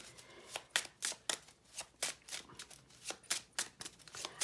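Tarot cards shuffled and drawn in a steady run of soft riffling slaps and flicks, close and fairly quiet, with no talking over them.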